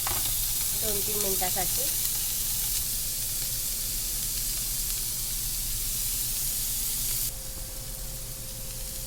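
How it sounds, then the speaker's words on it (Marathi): Paneer pieces frying on one side in a pan, a steady loud sizzle and hiss running throughout, with a short spoken remark near the start. "हे पनीरचे तुकडे आपण एका साईडने भाजून घेऊ"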